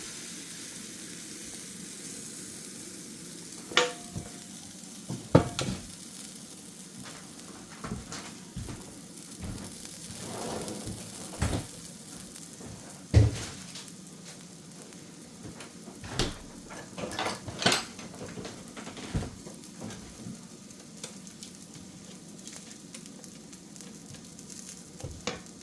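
Soft, steady sizzling of pumpkin cheesecake pancake batter frying in a hot pan, with scattered clinks and taps of utensils throughout.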